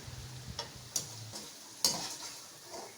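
Arvi (taro root) frying in hot oil, giving a low, steady sizzle with a few sharp metallic clicks as a spoon taps and stirs in the pan; no voices.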